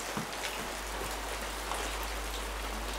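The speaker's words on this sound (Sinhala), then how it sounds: "මේ වැස්ස දිගටම අල්ලලා හිටින් දන්නේ නැ නේද අපි?" Steady rain falls in a continuous, even hiss with scattered drop patters, faint and distant, under a constant low hum and no voices.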